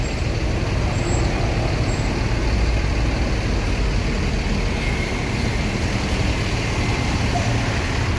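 Premium Jetbus 3 coaches gather at a busy Palembang bus ticket office, their engines making a constant heavy rumble. Traffic noise and a faint hiss fill the background without a break.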